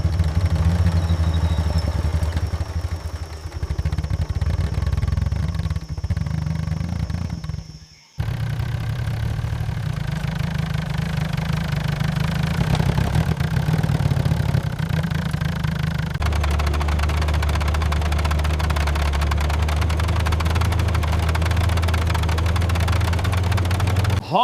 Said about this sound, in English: We are actually driving a piece of history.